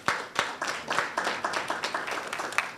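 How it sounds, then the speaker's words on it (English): Audience at a Ghanaian school quiz championship balloting clapping for first-time participating schools, a steady rattle of many hands with a few sharper near claps, no talking. "A round of applause for them"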